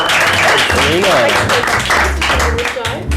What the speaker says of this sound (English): Let's give her a quick round of applause.